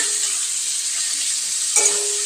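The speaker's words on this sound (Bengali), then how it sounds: "একটু ক্যাপসিকাম দিয়েছি টমেটো আলুগুলোকে ভালো করে ভেজে নিচ্ছি" Tomatoes and potatoes fry with capsicum in a pan, giving a steady, close hiss of sizzling oil with a faint tonal hum underneath and a brief stir near the end.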